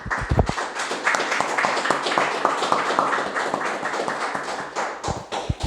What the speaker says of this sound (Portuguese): Vamos aplaudir Jesus por essa palavra